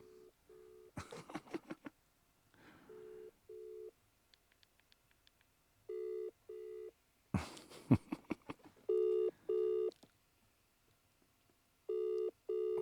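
A phone call placed on an ordinary landline telephone, its repeated ringback tone sounding in short steady double bursts with brief pauses, broken up by louder clattering handling noises partway through.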